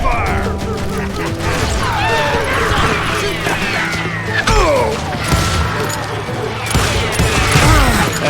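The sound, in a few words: gunfire, covering fire in Call of Juarez: Gunslinger video game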